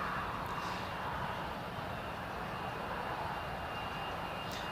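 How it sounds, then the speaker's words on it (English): An Embraer airliner taxiing at Newcastle airport, a steady distant jet engine whine and rumble that holds an even level throughout, with no talk over it. "that's the Embraer taxiing."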